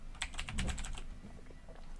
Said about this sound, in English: If I type in an email address, let's put in like just gmail.com, right?